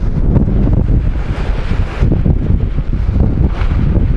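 Strong wind by the sea on the Vladivostok shore after a night storm, a loud continuous roar buffeting the microphone with surf rumbling underneath, no voices.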